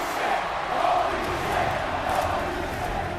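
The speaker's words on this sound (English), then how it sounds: "When the lights come back on, Jericho is now flanked by the House of Black, and the crowd erupts." A wrestling arena crowd roars in a sustained, dense wall of cheering and shouting that holds steady throughout, with no clear individual voices standing out.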